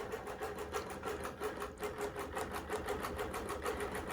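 A computerized quilting machine stitches a pantograph pattern across a loaded quilt, giving a fast, steady mechanical chatter with an even rhythmic pulse throughout.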